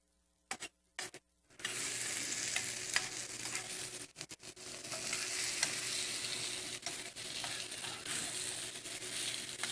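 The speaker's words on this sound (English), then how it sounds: "I want to cook this until the tofu is slightly golden brown on the outside." Tofu frying in a pan with onions, Dijon mustard, brown sugar and vinegar, a few clattering knocks at first, then a steady hissing sizzle with scraping stirs that continues to the end.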